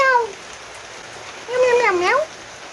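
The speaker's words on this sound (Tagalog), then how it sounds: "nagpapapansin na naman po yung pusa ko" A house cat meows twice for attention, one short cry at the start and a longer wavering one a second later, close and clear over a soft rain-like hiss.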